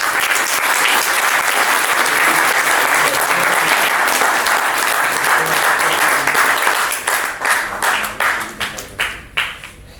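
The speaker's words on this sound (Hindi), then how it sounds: "ताली बजा दीजिए भारत जी।" Loud, sustained applause from a large audience at a live speech event, dense clapping that holds steady, then thins into scattered, fading claps near the end.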